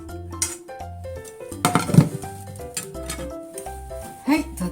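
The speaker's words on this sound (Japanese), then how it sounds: "そしたらお皿に取ります" Dishes and utensils clink as a tomato, maitake mushroom and egg stir-fry is served onto a plate, a few light knocks and a sharper cluster of clinks midway, over soft background music.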